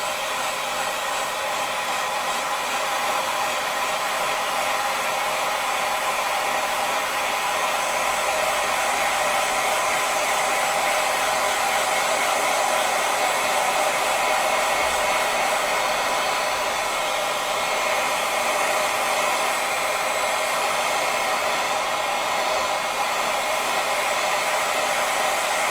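A hair dryer blows steadily and loudly for the whole stretch, drying freshly airbrushed water-based paint on an RC car body shell, with no talk and only slight wavering in the airflow.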